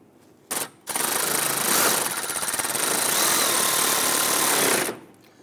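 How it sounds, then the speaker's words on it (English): A power tool drives screws into a car bumper impact absorber on a 2008-2013 Infiniti G37, starting with a short whirring burst, then running as one long, steady, loud buzzing whir before stopping abruptly. "Go ahead and install your screws here."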